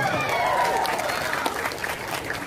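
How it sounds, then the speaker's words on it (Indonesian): Applause from a church congregation fills the space, a dense spread of clapping with a voice speaking over it near the start. "tepuk tangan kasih dia"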